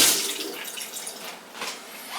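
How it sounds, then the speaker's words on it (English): Hands are washed under a running kitchen tap, a close hiss of flowing water with splashing that rises and falls briefly, no talking. "Wash my hands first."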